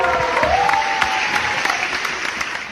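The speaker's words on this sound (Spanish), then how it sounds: "Yo quiero un aplauso porque este es nuestro capítulo." Audience applause at a casual talk-show taping, a steady broadband wash of many hands clapping throughout, with a faint sustained tone sliding in near the start.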